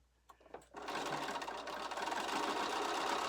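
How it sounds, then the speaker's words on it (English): Sewing machine stitching diagonally cut quilt fabric for a Valentine mystery quilt, starting after a few clicks and then running in a fast, steady, close whir. "Just want to let the machine take the fabric through at its pace."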